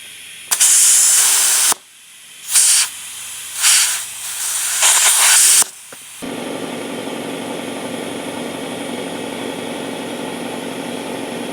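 Compressed air hisses in loud close bursts while a cart tire is being inflated, a long burst followed by several shorter ones, then a steady quieter rushing hiss continues.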